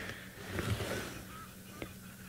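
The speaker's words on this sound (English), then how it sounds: "I'm just listening to the sound of the geese calling" Faint honking calls from geese come from a distance in an outdoor safari setting, a few scattered calls over a soft, steady background.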